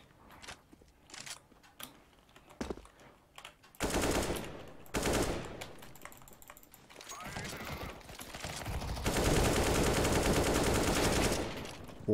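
Automatic weapon fire crackles in a Counter-Strike: Global Offensive match, scattered shots early then long sustained bursts of rapid machine-gun fire, loud and dense, with players talking over it.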